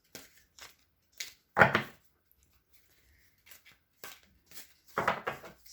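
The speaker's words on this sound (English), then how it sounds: "We're going to pull 5 cards." Tarot cards are shuffled and drawn by hand, giving a few brief, close riffling and sliding bursts separated by near silence, one louder flurry standing out.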